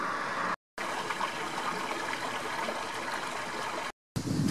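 River water rushing and gurgling over stones in the Ardèche, a dense continuous wash close by, interrupted by two short breaks of silence.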